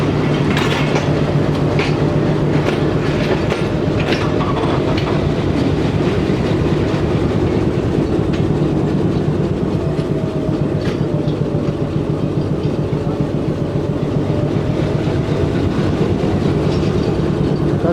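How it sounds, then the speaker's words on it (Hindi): A passenger train rolls out of Rawalpindi railway station, a loud continuous rumble with steady clickety-clack of wheels on rail joints and faint squeals, heard from inside a carriage throughout. "8:10 पर ट्रेन हमारी ज़रूर रवाना हो गई है"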